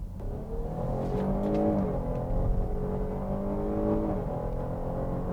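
A 2020 Cadillac XT6 with a sport-tuned chassis and all-wheel drive accelerates, its engine note rising steadily through the gears in a smooth, sustained hum heard from inside the cabin.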